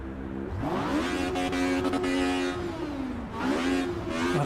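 A car engine in the racing game Assetto Corsa EVO revs up and holds a steady drone, dips briefly, then climbs again, loud and close with no talking.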